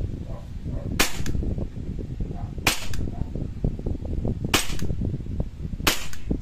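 A WE Glock 35 airsoft pistol fires four sharp, separate cracks about one to two seconds apart over a steady rumbling background, loud and close.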